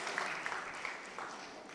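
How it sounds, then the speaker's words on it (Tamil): An audience at a jayanti festival honouring a devotional singer applauds faintly, a soft, even patter of clapping heard from a distance throughout. "இப்ப கைதட்டலாம்"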